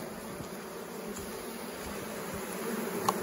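Honey bees buzzing in an open double brood hive being prepared for winter, a steady close drone with no talking.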